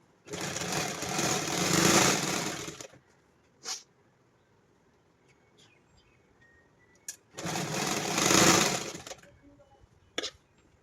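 A sewing machine stitches pant fabric in two long, steady runs of close mechanical whirring, with brief clicks and pauses between the runs.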